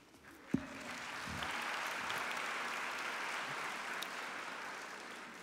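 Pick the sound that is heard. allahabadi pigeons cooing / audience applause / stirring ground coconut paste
audience applause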